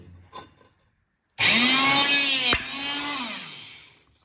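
An electric hydraulic hole punch drives a 9 mm die through a metal workpiece: a loud, sustained whining hydraulic strain ending in a sharp crack as the punch breaks through, followed by a lower motor hum that slowly fades.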